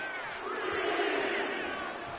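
Roaring wrestling crowd cheering during a WWE 2K25 Last Man Standing match between Jacob Fatu and LA Knight, a steady loud arena din that swells slightly midway.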